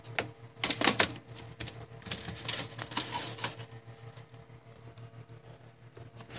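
Aluminum window screen sliding back into a skoolie bus window frame, fitted one-handed: a run of close, scraping and tapping clicks with sharp bursts near the start and middle, over a low steady hum.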